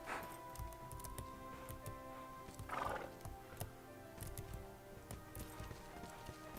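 A horse in the Bella Sara video game whinnies loudly mid-scene over a rhythmic clip-clop of hooves, with faint game sounds and no talking.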